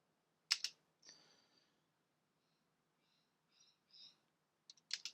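Keys clicking on the TEC-1G Z80 computer keyboard, a few separate quick taps and short bursts close by, with quiet gaps between them and no talking.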